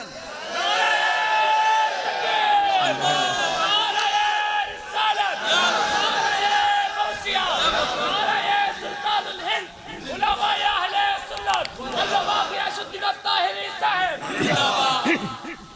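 A large crowd at an outdoor religious waz gathering in Hathazari roars a slogan in loud, repeated collective shouts. The surges rise and fall over several seconds, with a voice leading between them.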